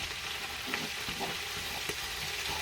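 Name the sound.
stirring greens in olive oil in a pot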